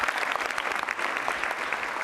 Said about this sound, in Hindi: जोरदार तालियां जोरों से बजनी चाहिए